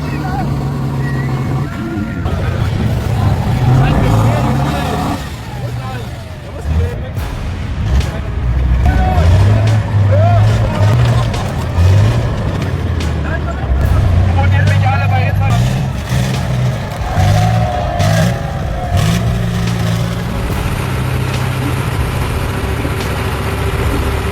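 Heavy diesel engines of a Tatra 813 truck and a Komatsu bulldozer rumble and rev during a tug-of-war, a deep loud drone with rising and falling throttle surges, partly under someone talking.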